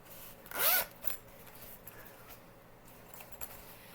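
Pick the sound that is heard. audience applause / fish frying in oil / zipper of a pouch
zipper of a pouch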